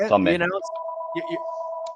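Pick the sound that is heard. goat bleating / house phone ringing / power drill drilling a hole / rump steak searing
house phone ringing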